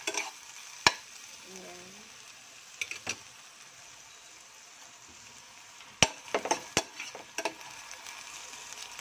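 Garlic and onion sauté in a pan for ginataang hipon, a low steady sizzle punctuated by several sharp clinks and scrapes of stirring, with a brief spoken word near the start.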